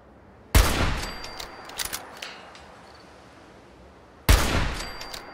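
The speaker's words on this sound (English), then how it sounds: "how I'm getting my shots off so easily" Rifle shots in Fallout 4 ring out as two loud, sharp cracks several seconds apart, each with a quick decaying tail, and faint clicks and mechanical sounds fill the quieter gap between them.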